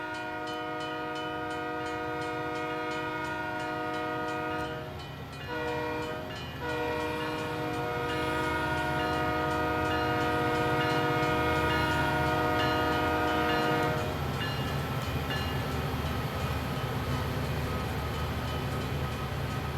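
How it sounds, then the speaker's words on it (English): A train in the Train Sim World 3 game rolls through a road crossing, its horn sounding steadily and loudly over the rumble and clatter of the cars as it passes close by. "There's a train coming."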